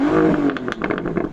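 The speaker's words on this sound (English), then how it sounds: "Daniel, can you rev up your car and let us hear its W12 engine?" A Bentley Continental GT W12 engine revs up in a quick burst, loud and close, with a sharp rising roar that then settles back.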